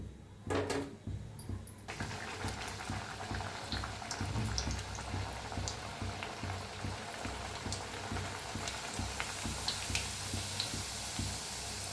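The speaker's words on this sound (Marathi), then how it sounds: "बघा कशी पुरी आपल्या वर यायला आल्या तळून फिरवून घेऊया" Tomato puris deep-frying in hot oil, a steady close bubbling and crackling sizzle with small ticking pops that runs continuously, after a brief louder splash near the start.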